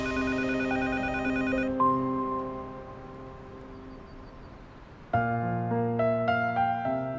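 A telephone rings in a dubbed Turkish drama scene, a tonal electronic bell with harmonic ringing tones that sustain, fade, then start again near the end, alone with no talk over it.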